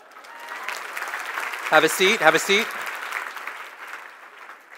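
A seminar audience claps in a steady wash that builds and then slowly tapers, while someone speaks briefly over it near the middle.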